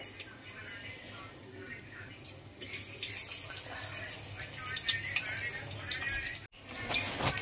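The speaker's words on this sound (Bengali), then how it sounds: "এই আলু দিয়ে দিলাম, একটু হালকা ফ্রাই করব আলুটা।" Potatoes go into hot oil and fry with a steady, soft sizzling crackle that swells louder about midway and continues close by at moderate level, with a brief break near the end.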